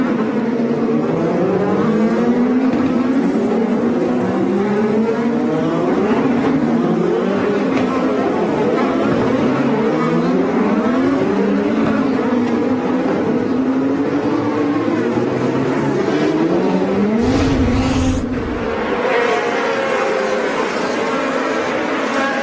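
IndyCar race cars at the Toronto street race whine past one after another, their engine notes rising and falling in loud, overlapping sweeps, with one car's engine cutting out briefly near the end.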